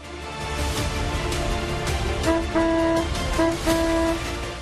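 Busy traffic noise with several short car horn honks, a couple of beeps repeating in the second half over engine rumble.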